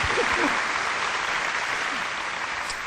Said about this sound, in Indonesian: Tepuk tangan buat Vando